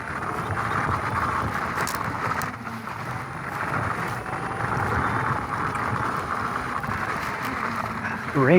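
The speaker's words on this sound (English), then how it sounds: "Rain feels nice." Steady rain hisses throughout an electric bike ride on mountain trails and streets, a dense, even wash of noise with a brief rising whine at the very end.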